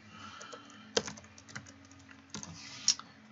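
Keystrokes on a computer keyboard, a quiet scatter of light taps with a few sharper, louder clicks, heard alone at close range.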